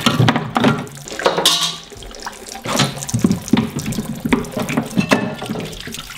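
Hot water runs from a garage tap into a sink used for cleaning milking buckets and strainers, a continuous loud rushing splash with shifting gurgles as the flow hits the basin.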